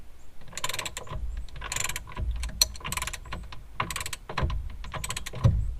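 A 15/16 inch socket wrench ratchets as it tightens the bolts on a fifth wheel hitch, giving close, repeated clicking bursts separated by short pauses.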